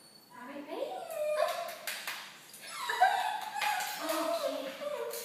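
A tiny lap dog whimpers and yips close by, with high, wavering whines and short sharp yelps in irregular bursts mixed with low voices in the room.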